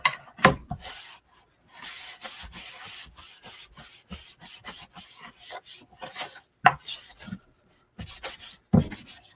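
Wooden sign sanded by hand, with repeated scratchy rubbing strokes coming in short bursts separated by pauses, close and fairly quiet.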